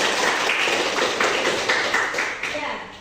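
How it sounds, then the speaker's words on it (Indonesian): A classroom of students clapping for a classmate, a brisk irregular patter of many hands, fairly close and moderately loud, with some talking layered underneath. "Kasih tepuk tangan untuk adik Toto."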